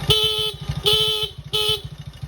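A motorcycle horn honks three times in short blasts, each about half a second, over the steady putter of an idling engine close by.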